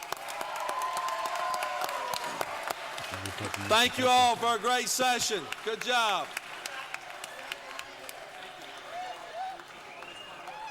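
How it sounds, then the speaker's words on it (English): Applause fills the chamber of a state House of Representatives as the session adjourns sine die, a steady crowd clapping with someone speaking over it in the middle stretch before the clapping thins out. "Let's give them a round of applause"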